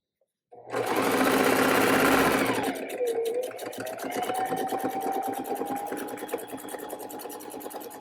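A sewing machine stitches the lining of a drawstring bag, a loud steady run that slows with pitch shifts partway, then continues at a lighter, rhythmic pace to the end.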